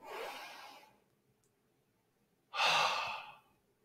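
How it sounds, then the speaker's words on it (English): Two slow, deep breaths close to the mic, an inhale and then a longer, louder exhale after a pause of about a second and a half, in an otherwise quiet room. "take a breath."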